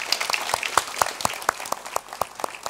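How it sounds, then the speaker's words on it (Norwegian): An audience claps in warm, steady applause, many hands together in a lively wash of sound. "Vi gir Torstein en varm applaus."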